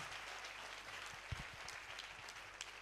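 Faint applause from a church congregation acclaiming Jesus during a sermon, a steady wash of distant clapping with a few louder claps standing out.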